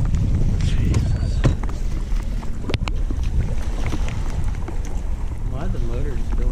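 A boat motor rumbles low and steady throughout, heard close up in wind on the water during crawfishing.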